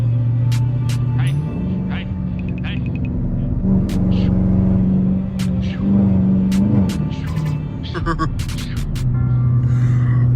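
A deep, steady 5.7L V8 Dodge Challenger R/T engine rumble fills the whole stretch in daytime traffic, rising and falling with revs, while people talk over it.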